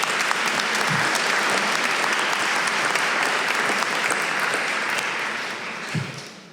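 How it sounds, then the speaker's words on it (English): Sustained applause from an audience at a National Whistleblower Day event, a dense even clapping that holds steady for several seconds before tapering off. "Can we just do another round of applause for all of the whistleblowers here?"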